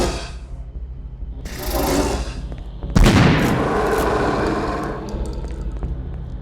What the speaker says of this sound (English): For the Slith growl, I layered the draining sound of a restaurant dishwasher